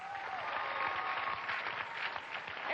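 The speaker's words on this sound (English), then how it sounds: "let's have a round of applause for Mark" A studio audience on a Nickelodeon game show claps steadily throughout, a continuous bright wash of applause at even loudness.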